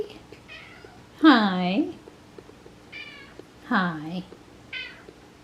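A domestic cat meows twice, loud and close, in drawn-out rising-falling calls about two seconds apart, with a person's soft greetings spoken in between.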